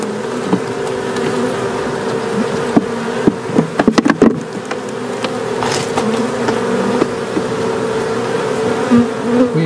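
Honey bees buzz densely and steadily at a hive during queen grafting work, a close continuous drone with a few faint knocks and taps from handling equipment partway through.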